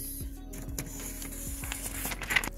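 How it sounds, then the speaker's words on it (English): A wireless printer runs off a network configuration report, its mechanism whirring and clicking in a steady rhythm of feed and head movements, close and fairly quiet, with no voices. "that is going to print the configuration of this printer"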